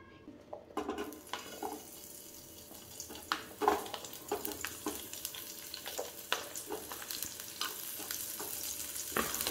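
Chopped onion and green chilli frying in cooking oil for a mixed vegetable sabzi, a soft, steady sizzle with occasional stirring clinks and scrapes, close and fairly quiet.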